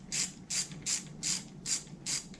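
A wrench ratcheting jet ski bolts snug, six short evenly spaced clicking bursts at a regular rhythm, close and fairly soft, with no speech.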